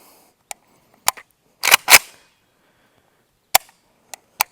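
The safety lever on an Izhevsk AK-74 rifle is worked, giving a few sharp metallic clacks, two louder heavier snaps in the middle, and scattered lighter clicks, close and otherwise silent.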